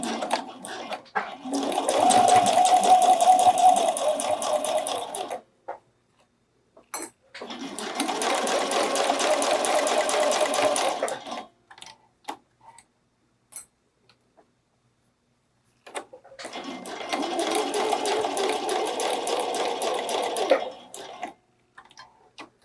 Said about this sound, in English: I'm going to try to sew right over my previous stitching line.